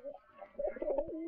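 Pigeons coo softly in a short burst, a low rounded warble repeating a few times as the birds are fed grain, close by with light background noise.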